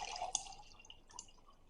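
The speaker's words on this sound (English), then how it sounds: "Pour in your cold brew." Cold brew coffee poured into a container, giving a brief close splash and trickle of liquid that tails off into faint drips.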